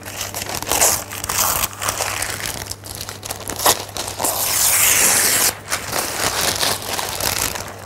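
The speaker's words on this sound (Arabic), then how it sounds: "نحط الورق من حواليها." Paper is crumpled and pressed around a piece of cake dough in a tin, a long, close, continuous crinkling and crushing with brief scrapes and tearing rustles.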